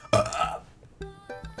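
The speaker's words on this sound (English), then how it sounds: "And I burp, apparently." A single loud burp effect plays in a dad dating simulator game, followed by a few soft, evenly spaced musical notes.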